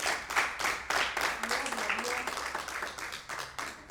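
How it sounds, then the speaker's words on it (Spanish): A church congregation claps loudly for a stretch, rhythmic bursts of many hands with voices shouting and talking underneath. "Dale un aplauso fuerte al Señor."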